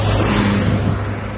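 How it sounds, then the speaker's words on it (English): Street traffic rolling past, a steady low engine rumble and tyre hiss that swells slightly in the middle, fairly loud and close, with no voices over it. "I think the sound of these cars"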